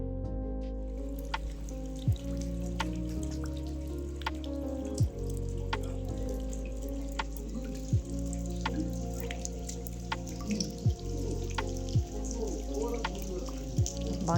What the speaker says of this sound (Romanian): izvorăște apa termală